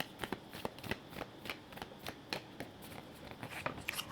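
Tarot cards being shuffled close up, a steady run of soft riffling flicks and papery snaps repeating at an irregular rhythm, quiet and alone with no talk.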